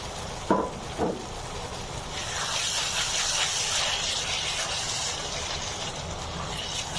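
Chopped carrots tipped into a hot pan bring a couple of clattering drops, then a steady, strong sizzle and hiss that holds at close range.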